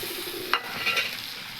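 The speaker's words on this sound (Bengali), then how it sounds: "এবার আমি একে ভালোভাবে ভাজবো, বেশ লাল লাল হয়ে যাবে" Gugli snails sizzle steadily in hot oil in a pan, a constant close frying hiss broken by a brief scrape of stirring, with no one talking.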